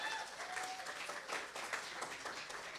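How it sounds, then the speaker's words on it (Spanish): A small group at a Sukkot gathering gives a round of applause, soft and somewhat distant clapping that stays steady for a few seconds with faint voices beneath. "Un aplauso."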